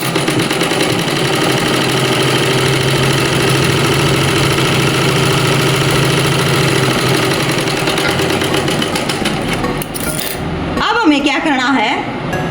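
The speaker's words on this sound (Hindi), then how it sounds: "इसको ऐसे ऊपर से ऐसे उठाएंगे और 1/2 इंच का मार्जिन लेते हुए इसकी सिलाई कर देंगे ऐसे।" Close up, a sewing machine stitches a trouser pocket with a half-inch margin, running loud and continuous for about ten seconds before stopping, followed by brief rustling of fabric.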